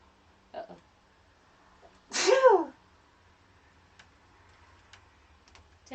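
A single sharp, close sneeze from someone holding a twist during a yoga class, set in a quiet room with faint ticking and small clicks around it.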